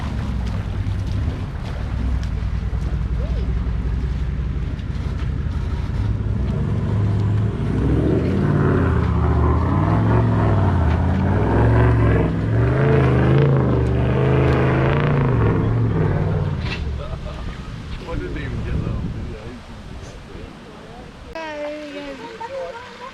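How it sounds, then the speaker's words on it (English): A twin-locked 79 series 4WD climbing a wet track exit on the road to Cape York, a heavy engine rumble that builds and strains under mixed voices and splashing, then fades as people exclaim nearby. "This twin-locked 79 series made the exit look easy."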